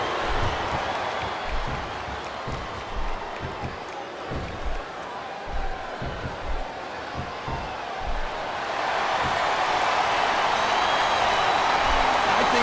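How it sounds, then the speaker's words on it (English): A wrestling arena crowd at WWE Backlash 2006 roars for a wrestler, building from scattered noise under commentary into a loud, sustained swell of cheering toward the end. "Now the fans start to cheer for him."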